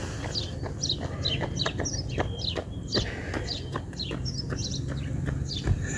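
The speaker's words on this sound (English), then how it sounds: "can you hear these birds just behind me?" Many small birds chirp and tweet continuously nearby, with overlapping quick calls over a low background rumble.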